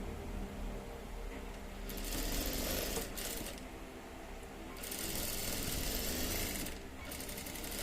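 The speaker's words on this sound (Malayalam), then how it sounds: "എന്നിട്ട് ഒരു കാലിഞ്ച് തയ്യൽ തുമ്പിട്ട് സ്റ്റിച്ച് ചെയ്യാം" A sewing machine stitching a quarter-inch seam on fabric while making a child's dress, running as a steady mechanical whir with slight surges in speed, close and continuous throughout.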